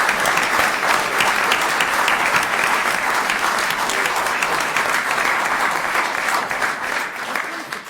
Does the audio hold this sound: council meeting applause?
yes